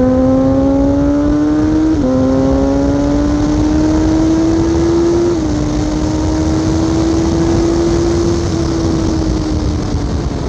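A Kawasaki Z800 motorcycle engine revs up through the gears on a wet road, a loud, rising wail that drops briefly at each shift and then climbs again, heard steadily throughout with wind rush and no talking.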